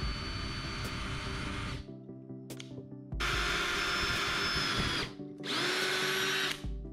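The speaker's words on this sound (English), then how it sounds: "When drilling holes in gel coat, you want to start in reverse first." Power drill boring into boat gel coat, a steady high motor whine in three long runs broken by short pauses, close and loud.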